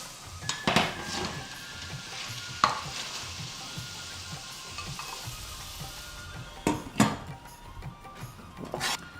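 Metal pot and lid clanks in a home kitchen as a lid goes back onto a cooking pot, a few sharp clattering hits spread over the clip above a quiet sizzle of food cooking.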